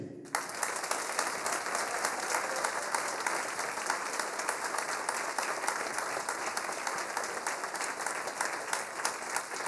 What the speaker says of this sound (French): Je vous demande un tonnerre d'applaudissements pour lui.